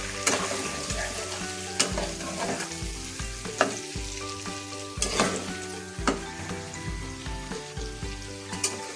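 Ash gourd pieces stirred through hot oil, with a steady close sizzle broken by repeated spatula scrapes and taps against the pan; no voices.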